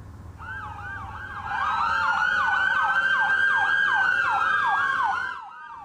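A police car siren wails on a residential street in Sacramento's River Park neighborhood during a slow overnight chase. It rises in, holds a steady, rapidly cycling tone for several seconds, then cuts off.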